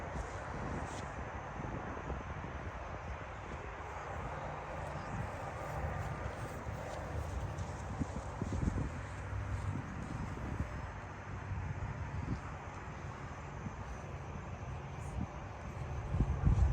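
Steady outdoor wind buffets the microphone at an RC model flying field, a low continuous rumble and rush with faint distant sounds underneath throughout.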